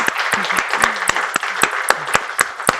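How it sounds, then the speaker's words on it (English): An audience at a policy talk on Capitol Hill and Korea applauds the two speakers, crisp individual claps standing out in an uneven, moderate round of applause in a quiet room. "A round of applause for Mark and Emma."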